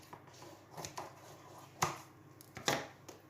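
A knife cuts a piece of puff pastry in two, giving a few sharp, close taps and thuds against a board, with two louder strikes near the end over a quiet background.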